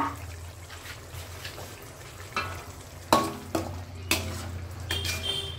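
Chopped tomatoes hit a frying pan and are stirred in: a quiet sizzle underneath, punctuated by several sharp clanks and scrapes of a utensil against the pan at irregular intervals.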